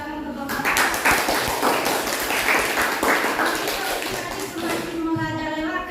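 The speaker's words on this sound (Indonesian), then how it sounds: "terima kasih untuk kita tepuk tangan untuk Bapak." An audience applauds a man after he answers a question, the clapping steady and fairly loud throughout, with a voice briefly heard over it near the end.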